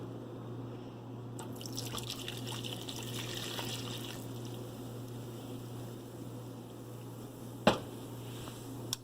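Two cups of water poured into a play dough mixture make a soft, low trickle and dripping against a steady background hum, ending with a brief sharper splash near the end.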